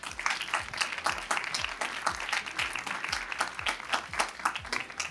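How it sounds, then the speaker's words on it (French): Audience applause fills an award ceremony hall, a dense, steady patter of many hands clapping at close range for the full length, with faint tonal sounds underneath. "Et on peut les applaudir très fort."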